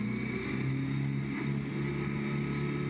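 A racing car engine in the pits on a warm, windy day, holding a steady, droning rev for about three seconds with a strong low hum and no voices.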